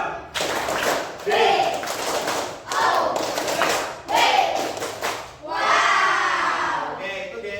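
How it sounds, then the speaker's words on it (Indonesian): Schoolchildren in a classroom repeat a rhythmic clap-and-chant routine, several bursts of claps and thuds alternating with shouted group voices, close and loud. "Ulang kompak, tepuk wow."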